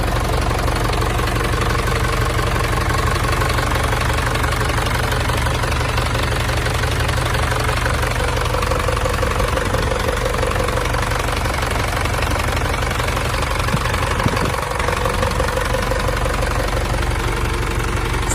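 A 1997 Hino FC4J six-wheel truck's 140-horsepower diesel engine idles steadily with a loud, constant knocking clatter and low rumble, close up and unbroken throughout, no voices.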